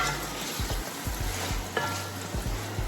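Onions fry gently in a soup pot for a roasted chicken and mushroom soup, giving a soft, steady sizzle broken by a string of light stirring taps.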